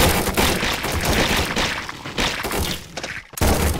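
Rapid, dense gunfire blasts against zombies in the video game Run!ZombieFoods, loud and continuous with crashing impacts and a brief drop in the barrage near the end.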